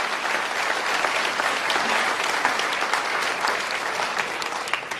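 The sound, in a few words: audience applause for storytellers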